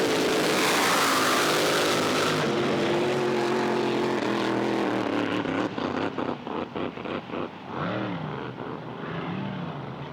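Racing boat engines, including an LS engine, roaring loudly at a drag boat championship in Windsor, a sustained engine drone that breaks into fluctuating revs and fades as the boats pull away.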